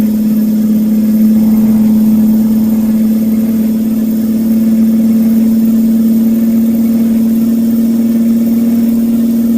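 Kenworth T100 truck engine in the American Truck Simulator video game, a loud, constant low drone that holds steady at one pitch throughout, with no talking.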